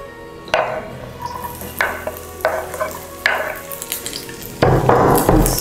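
Pieces of shaki are tossed into hot cooking oil for a honey garlic dish and sizzle up close, with several sharp bursts of frying and stirring that swell into a louder, sustained sizzle near the end, with no talking.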